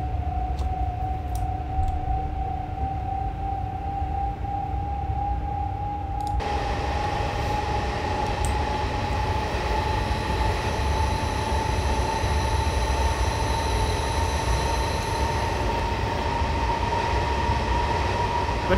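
A Metropolitan Line train in Train Simulator 2018 runs steadily with a continuous rumble, a whining motor tone that rises slightly in pitch, and a brighter, fuller layer of sound coming in partway through.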